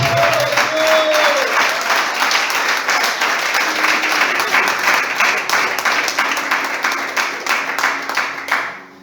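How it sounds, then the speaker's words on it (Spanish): A church congregation applauding during a Spanish-language service, loud sustained clapping filling the room throughout, with a brief voice near the start. "Dale un aplauso a Cristo en esta noche"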